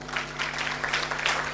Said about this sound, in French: applaudissez pour lui.